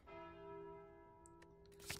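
The Calling Bell relic in the video game Slay the Spire rings out as one sustained bell tone with clear overtones that slowly decays, followed by a few brief game clicks and a short bright chime near the end.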